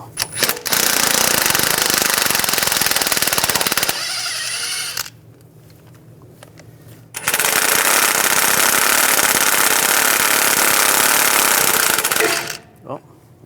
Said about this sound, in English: We're going to use a 10mm socket. Take these out.